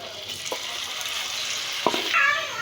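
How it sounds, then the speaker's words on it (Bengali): Chicken fries in oil in a wok, a steady close sizzle broken by a few sharp clinks of a spoon against the pan, with faint background sound. "এই পাশে চুলায় আমার এই যে মাংসটা এরকম ভাজা ভাজা হচ্ছে তেলে"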